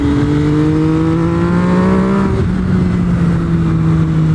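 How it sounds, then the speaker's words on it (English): A 2020 MV Agusta F3 800 RC motorcycle engine screams at high revs while riding, with rising engine tones that drop sharply at a quick auto-blipper gear change and then climb again, loud and close over wind rush. "I love the way the auto blipper works."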